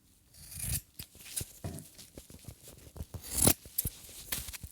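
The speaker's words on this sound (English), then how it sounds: "So, I take a scissor." Scissors snip and rustle through crocheted microphone windshield material, a series of close, quiet cuts and rubbing sounds in an irregular rhythm, with no talking.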